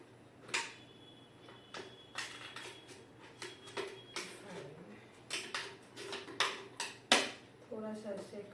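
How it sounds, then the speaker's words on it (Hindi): Scissors snip through a thin plastic water bottle in a series of short, crisp cuts and crackles, close by, with a faint steady hum beneath and brief plastic rustling near the end. "एक छोटा सा पार्ट को कट कर देती हूँ with the help of scissors"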